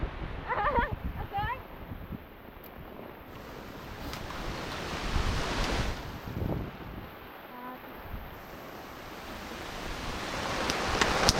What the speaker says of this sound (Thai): ลมพัดมา